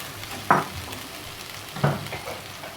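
Shrimp dropped into sizzling spice paste for a Bangladeshi-style Chinese vegetable dish: two sharp stirring clatters land over a soft, steady frying hiss.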